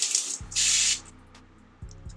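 Two short hissing bursts from a hairspray can, the second longer, followed by a few soft clicks and light taps nearby.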